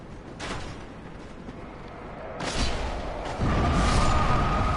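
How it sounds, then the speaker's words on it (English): Explosion in the video game Dark Souls, with broadband booming bursts near 0.4, 2.5 and 3.5 seconds over a steady rumbling game backdrop, the last blast followed by a sustained tone. "Well, the explosion just killed you bastards."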